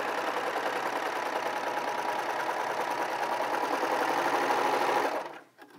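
A Baby Lock Celebrate serger running steadily through 4-thread serging, a continuous close mechanical whir with fast rhythmic stitching that stops abruptly near the end.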